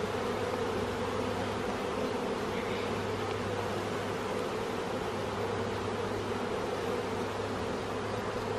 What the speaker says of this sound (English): These seem like really calm bees